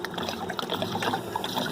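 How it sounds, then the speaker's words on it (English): One gallon of waste oil being poured into a waste oil heater, a soft, steady trickling and gurgling of liquid heard close and alone, brief and fairly quiet. "We're going to pour our 1 gallon of oil in."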